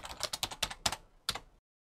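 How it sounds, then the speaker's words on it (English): Quick keystrokes on a computer keyboard, about seven sharp clicks in an uneven rhythm, then silence. "Type Y on your keyboard to continue."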